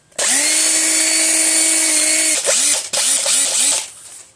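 An old DeWalt 18V cordless drill powered by a 20V lithium battery whines loudly at a steady high speed for about two seconds, then revs in several short bursts as the trigger is pulsed, close up with no talk.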